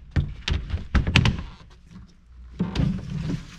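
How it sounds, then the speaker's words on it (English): A cabin door on a 1997 Carver 260 Special Edition boat on Norris Lake bumps and thunks shut in a handful of close, hollow knocks, followed by a pause and a few more quieter clunks. "We do have a door that would close right here."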